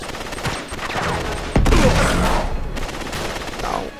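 A grenade goes off amid gunfire during Uncharted 3 gameplay. Rapid shots rattle throughout, and a loud, sharp blast lands about midway with a lingering rumble.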